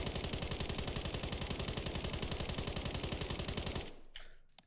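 A sustained burst of rapid automatic gunfire from Call of Duty: Modern Warfare, loud evenly spaced shots rattling for nearly four seconds before cutting off into a brief fading tail.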